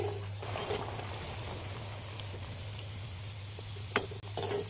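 Luchi dough frying in hot oil, a steady continuous sizzle with a low hum beneath and a few soft clinks and bubbling bursts near the end, close and even throughout.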